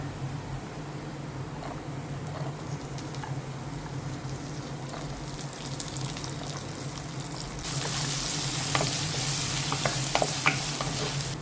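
Grated coconut frying in a pan with ginger and garlic, a steady close sizzle with scraping stir strokes that grows louder and brighter near the end as the new ingredients go in.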